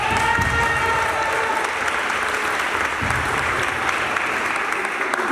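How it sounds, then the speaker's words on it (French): A packed audience gives loud, continuous applause for the presenters of a project, a thick steady wash of clapping that holds at the same level throughout. "Vous pouvez les applaudir bien fort."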